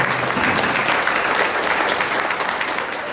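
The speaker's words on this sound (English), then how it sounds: "join me with a fantastic round of applause for a brilliant panel" A crowd at a manufacturing-themed innovators lunch in Port Stephens claps steadily for a panel, a dense, close wash of applause that runs evenly throughout before easing slightly at the end.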